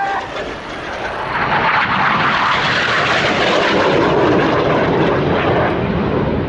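Display jets of a synchro pair pulling opposing 6G turns in the carousel manoeuvre at Yeovilton Air Day, a loud, steady, broadband engine roar that holds throughout without letting up.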